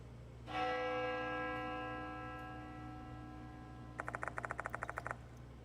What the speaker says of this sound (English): The sound of a bell echoes in my ear.